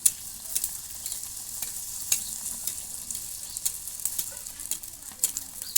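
Shrimp kachori deep-frying in hot oil, a faint, steady sizzle with soft crackling pops throughout.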